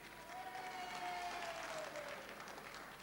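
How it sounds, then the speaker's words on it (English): A football crowd at an NTFA match in Launceston, 1986, sends up a sustained roar and cheering with applause. It sounds distant and broad, holding steady throughout the whole stretch. "you can probably tell by the roar that went up from the crowd there"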